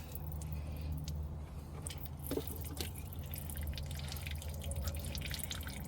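Transfer case fluid draining out of a Ford, with a steady liquid flow and faint dripping, continuous and fairly quiet beneath a low background hum.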